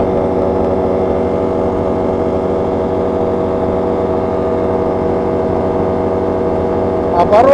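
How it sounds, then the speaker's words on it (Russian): Steady loud drone of a light aircraft engine turning about 5500 rpm in flight, continuous and close throughout with a brief higher rise near the end. "Обороты 5500, а долговременные на этом двигателе, если мне склероз не изменяет, 5800 при максимальных 6200."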